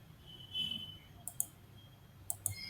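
A few sharp, quiet keystrokes on a computer keyboard, grouped in two brief pairs of clicks, as a word is typed into an Excel spreadsheet and Enter is pressed.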